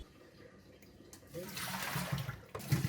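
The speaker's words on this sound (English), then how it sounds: "Rinse them out for the last time." Running water splashes and swirls in a basin of mung beans being rinsed, starting quiet and growing louder with sloshing bursts, close up, no talking.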